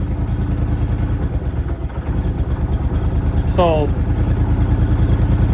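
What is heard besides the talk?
Honda Big Red ATV engine starting and idling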